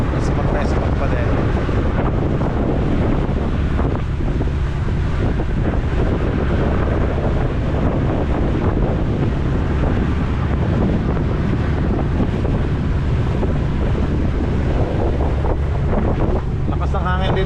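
Strong wind roars steadily across the microphone aboard a fast-moving boat at sea, with wave wash and hull noise blended into a loud, continuous rush.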